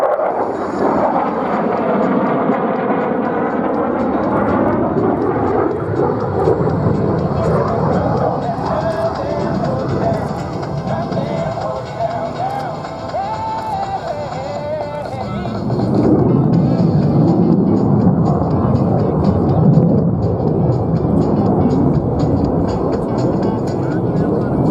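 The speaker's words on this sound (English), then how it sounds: "Watch closely as the jet climbs more than a mile into the vertical." An F-35 Lightning II jet makes a pass at an airshow, its loud engine roar sweeping and swelling throughout with wind buffeting the microphone, while an announcer speaks over the noise.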